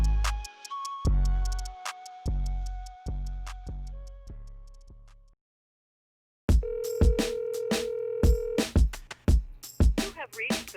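A telephone rings in repeated loud electronic bursts with short gaps, then after a brief silence a different ring pattern sounds, just before a voicemail greeting would begin.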